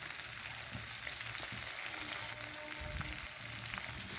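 Curry leaves and asafoetida frying in hot oil for an onion-tomato chutney, a low steady sizzle with a few soft crackles and light stirring taps, fairly quiet and without speech.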